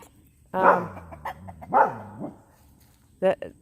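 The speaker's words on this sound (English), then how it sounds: "that's Maggie barking at the neighbor." A dog barks and yips a few times with pauses between, mixed with a person talking nearby.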